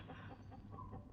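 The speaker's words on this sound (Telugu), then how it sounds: "అవిగో కోళ్ళు" Chickens clucking softly somewhere off at a distance, a faint, steady murmur of fowl with no clear individual calls.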